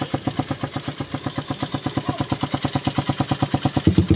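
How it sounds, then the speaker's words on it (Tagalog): Raider 150 Gen 1 motorcycle engine idling close by, a steady, even thumping pulse of regular firing beats that stays constant throughout, with a slight bump near the end. "Tahimik pa yung makina."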